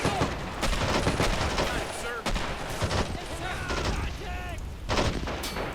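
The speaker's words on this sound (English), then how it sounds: "machine gunner there shooting." Dense, continuous machine gun fire and rattling battle noise in Men of War: Assault Squad 2, a World War II Pacific airfield assault, with repeated bursts and distant booms layered throughout.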